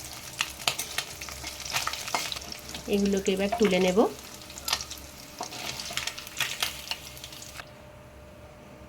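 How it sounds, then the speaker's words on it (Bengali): Mourola fish frying in oil in a pan with eggplant, a steady close sizzle with scraping stirs, and a person speaks briefly over it. "এবার আরও কিছু মাছ আছে সেগুলো আবার ভেজে নিচ্ছি"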